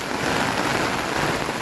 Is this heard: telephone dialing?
no